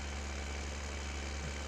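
Tractor engine running steadily on a rickety bridge, a low constant idle-like hum with faint mechanical vibration, fairly quiet and with no voices.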